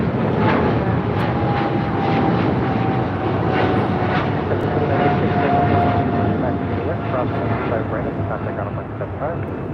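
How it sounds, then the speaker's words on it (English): A Boeing 777 freighter jet takes off at LAX, its engines a loud, sustained broadband roar that holds steady throughout, heard from a distance with faint radio-style chatter. "This is Airlogic 473 taking off to Frankfurt on a 777 freighter."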